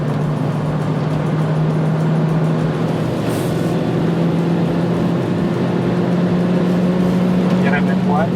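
A Zeekr 7X or Geely Coolray drives fast around the Mandalika race track, heard from inside the cabin as a steady low engine and road drone that holds at a constant loud level.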